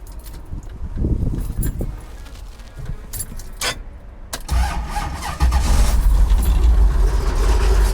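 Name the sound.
1971 Dodge Challenger RT engine starting and idling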